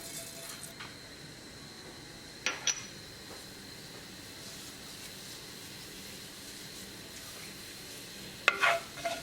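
Cumin seeds (jeera) sizzle in hot olive oil in a pot: a faint, steady crackling hiss runs throughout, with a couple of brief louder clatters near the start and end.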